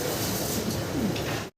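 Pigeons kept in a pigeon house coo softly in a short, low burst, with faint background hum before the sound cuts off abruptly.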